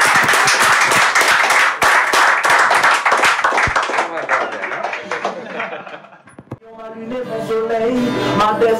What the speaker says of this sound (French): Voilà, applaudissements,